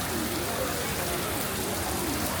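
Rain falling on a hot city street in Hong Kong, a dense steady hiss of drops with faint voices murmuring underneath, continuous and fairly loud.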